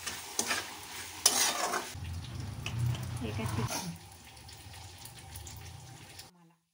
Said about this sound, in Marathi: प्युरी न टाकता टोमॅटोचा सॉस टाकत आहे। मस्तपैकी छान असं याला फ्राय करून घ्यायचं आहे।